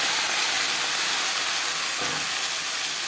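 Chopped banana stem goes into a hot pan of reddish fried onions and sets off a steady, loud sizzling hiss that swells slightly partway through.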